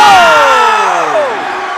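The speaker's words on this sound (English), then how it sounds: "Listen to this crowd." A basketball crowd at a high school tournament of champions roars after a made shot, loud and sustained with whoops and shouts, slowly easing over the short clip.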